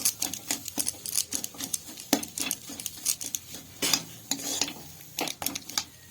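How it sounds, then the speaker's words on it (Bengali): Pea filling with chopped cashews being stirred in a pan, a quick run of scraping, clinking spoon strokes against the metal, close and fairly quiet, with no voices. "এটিকে আবারও ভালোভাবে নেড়ে চেড়ে নেব"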